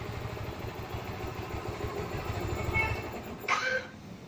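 A steady, throaty Yamaha R15 V2 motorcycle engine with an aftermarket air filter rumbles continuously, with a brief louder rev near the end.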